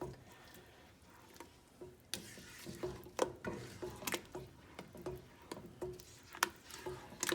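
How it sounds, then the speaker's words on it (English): A flat spatula stirs thick broccoli cheddar soup in a pot, making soft scraping and clicking taps at an irregular rhythm, quiet and close. "A flat spatula that I can stir without it hooking."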